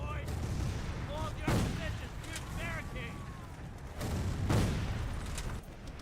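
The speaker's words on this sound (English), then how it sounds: "Let me know if it's too loud here with all the explosion effects and the like" Explosions and gunfire from a Civil War video game sound in a few dull booms and bursts beneath steady speech, with scattered game sounds in the background.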